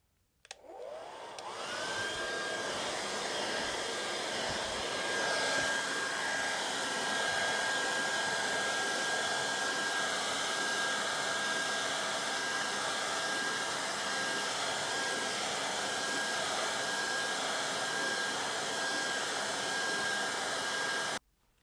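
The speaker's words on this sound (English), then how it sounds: "So let's just dry that quickly with the hairdryer." A hair dryer drying repaired leather handbag edging starts up and blows with a steady, loud whine and whoosh that runs continuously before switching off at the end.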